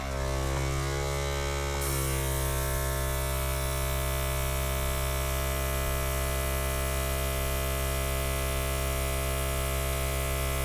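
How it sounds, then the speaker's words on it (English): An airbrush sprays paint over the edges of an acrylic pour painting in blue tones, a steady, continuous hiss over a low compressor hum that swells after a brief start and holds evenly to the end. "here comes the airbrush noise."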